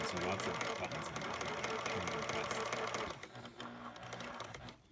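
A Kenmore 158.19811 cam-driven monogramming sewing machine runs close up with a steady, rapid mechanical whir and needle chatter, easing off partway through before a short knock at the end.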